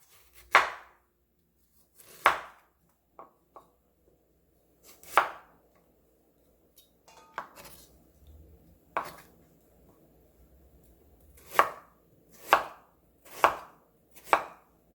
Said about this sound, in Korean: 물기 뺀 생강을 썰어줍니다.